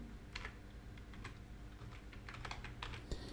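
Quiet typing on a computer keyboard, irregular bursts of light key clicks with short pauses between words, faint and close.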